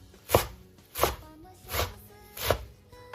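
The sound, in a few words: chopping sweet potato leaves on a cutting board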